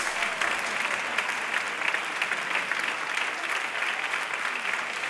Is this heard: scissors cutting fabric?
no